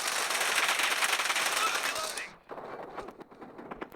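Rapid automatic gunfire from a team deathmatch in the mobile game BGMI (Battlegrounds Mobile India) rattles dense and loud for about two seconds, then drops to sparse scattered shots and clicks.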